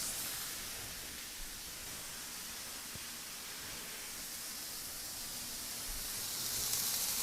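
A burger sizzles steadily on a stainless steel griddle over an induction range, a continuous close hiss with fairly even loudness throughout.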